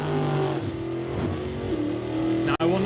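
Drag racing cars, including a Roadster, rev and idle loudly up close at the start line, harmonic engine tones shifting over a brief dropout, with commentary spoken over the top.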